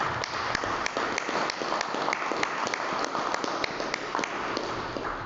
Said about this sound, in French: Nous applaudissons l'Union des artistes pour ça.